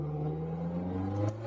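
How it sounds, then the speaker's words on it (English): Polaris Slingshot with a 2-liter four-cylinder engine, a steady droning hum with a strong low tone and a brief lift in pitch near the end, heard alone without talk. "It's a 2-liter, 4-cylinder motor."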